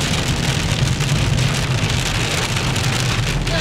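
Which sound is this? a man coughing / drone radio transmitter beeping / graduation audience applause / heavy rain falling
heavy rain falling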